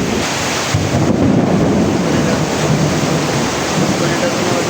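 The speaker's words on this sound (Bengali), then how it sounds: "মেঘের গুড়গুড়ি ডাক" Thunder rumbles through a rainstorm, a loud, dense low roll layered over the steady hiss of falling rain.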